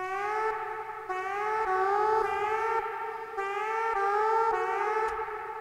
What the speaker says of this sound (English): we have the siren sound that sounds like a siren from the end of the movie Alien